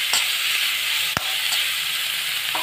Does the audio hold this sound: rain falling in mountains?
no